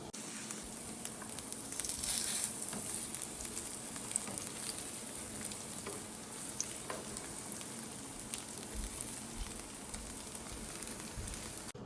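Tofu slabs frying in hot oil in a pan, a continuous soft crackling sizzle with scattered pops, steady and fairly quiet for the whole stretch.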